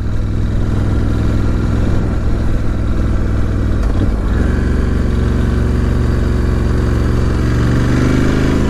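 A 2018 Ducati Scrambler 1100 Special, its engine derived from the 1100 Evo Monster, runs steadily during a test ride, a loud continuous engine drone with a brief dip and rise in revs midway, no voices.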